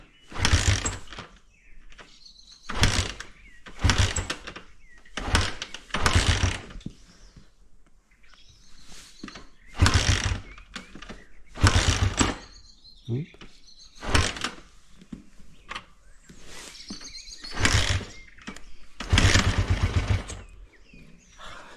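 A Honda CB125 Twin motorcycle, warm and hard to restart, cranks in repeated short mechanical bursts separated by pauses, with no catch.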